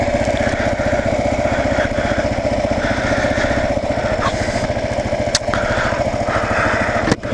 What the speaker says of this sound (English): it has a 60 horse engine on it.